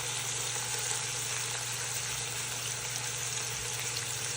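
Burgers fry in a pan with cheese melting on top, giving a steady, even sizzle that holds at one level throughout, close and fairly quiet, with a low hum beneath and no talking.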